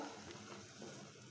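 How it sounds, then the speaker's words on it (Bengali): Water poured into spices frying in a pan while cooking a small-quantity mutton curry, giving a steady, close sizzle and bubbling hiss with soft stirring underneath, continuous and fairly quiet throughout. "আমি এখন একটু পানি অ্যাড করে দিচ্ছি।"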